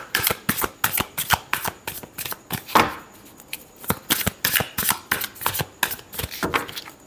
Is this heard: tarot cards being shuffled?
yes